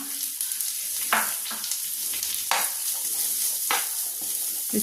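Grated coconut frying in a pan gives a steady, close hiss of sizzling oil, punctuated by three or four brief scraping strokes of a spoon stirring it.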